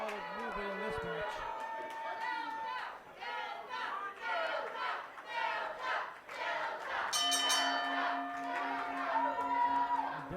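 A rowdy crowd at a Colorado Springs holiday wrestling show yelling and cheering for Delta Jr., loud overlapping shouts and whoops filling the space, with a sustained tone and talking mixed in toward the end.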